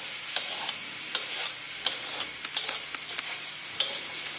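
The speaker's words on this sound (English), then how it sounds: "we'll just give this a little toss together and we'll be ready to go and deal with our tuna" Light, crisp rustling and soft clicks come from a sesame tuna salad with carrot, cucumber, chilli and spring onion being tossed together in a bowl, a steady close-up texture with scattered small accents.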